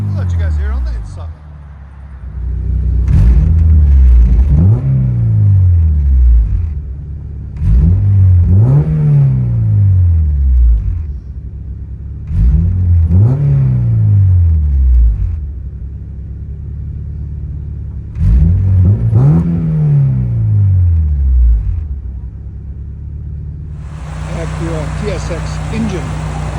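A 2000 Honda Civic with a swapped Acura TSX K24-A2 engine, long header and Vibrant exhaust revs hard from inside the cabin: five loud, close rev bursts, each climbing and falling back to a steady idle rumble.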